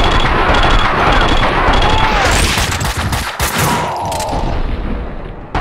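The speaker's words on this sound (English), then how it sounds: "Someone must have heard the gunfire." Bursts of gunfire in the video game Max Payne 2, loud rapid shots rattling close by in overlapping volleys, with a brief dip midway before the firing resumes, continuing without pause.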